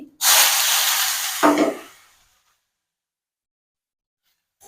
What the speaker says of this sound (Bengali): এরপর তেলের মধ্যে একটা কাঁচা লঙ্কা চেরা আর অল্প কালো জিরা দিয়ে দিচ্ছি এরপর একটা গোটা পেঁয়াজ কুচি দিয়ে দিচ্ছি